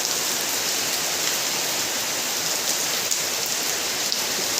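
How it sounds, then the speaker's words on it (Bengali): Heavy rain pours down outside a doorway where water is pooling, a loud, even, enveloping hiss of countless drops that stays constant, with no voices. "ঝমঝম করে বৃষ্টি পড়ছে, আর দরজায় জল জমে গেছে।"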